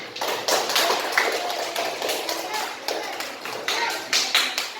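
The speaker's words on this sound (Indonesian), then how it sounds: "Untuk kelompok ini silakan berikan tepuk tangan." A classroom of schoolchildren claps in applause for a group of classmates, a dense patter of hand claps lasting several seconds, fairly loud and close, with scattered kids' voices mixed in.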